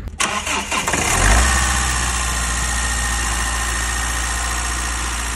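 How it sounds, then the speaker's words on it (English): A Mazda Skyactiv car engine cranks briefly, catches with a surge, then settles into a steady, loud idle that holds unbroken to the end, with no talking. "So I'll ask then to start up the car and we will perform the test."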